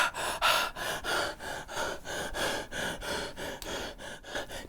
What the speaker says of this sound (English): You sitting there breathing.